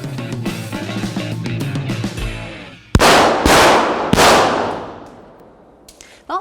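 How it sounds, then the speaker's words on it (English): At an indoor shooting range, loud, sharp gunshots crack twice with echoing reverb after a stretch of music, followed by a fainter pop near the end. "so when you walk in, you should expect people to be shooting."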